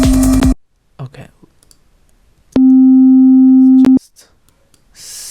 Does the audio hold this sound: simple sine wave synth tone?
yes